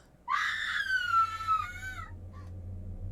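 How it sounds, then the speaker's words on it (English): A girl's high, drawn-out scream from the horror video game Corpse Party: Book of Shadows, loud and sustained for nearly two seconds before breaking off, with a faint low hum underneath. "My friend's screaming!"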